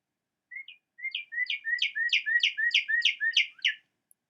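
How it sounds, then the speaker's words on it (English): A northern cardinal sings a clear whistled phrase. It starts with two separate notes, then a quick run of about ten rising-falling slurred whistles. The song is crisp and close against silence. "And the cardinal, beautiful red bird."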